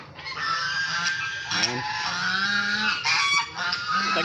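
Domestic geese honk loudly and repeatedly at close range while being fed, with harsh overlapping calls throughout and a brief spoken word among them.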